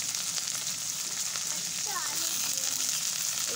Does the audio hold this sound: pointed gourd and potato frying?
yes